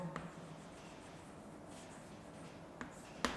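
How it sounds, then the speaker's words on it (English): Pen writing out a botany example during a lesson, faint scratchy strokes near the microphone with a couple of sharper taps, quiet and alone against low room noise. "So here we will write example for monocarpellary"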